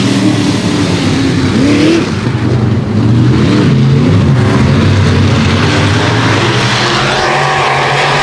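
Race cars at a dirt-track speedway roar off at the green-flag start, a loud layered drone of several engines with rising and shifting pitch, continuous and close.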